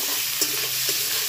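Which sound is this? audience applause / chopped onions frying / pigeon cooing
chopped onions frying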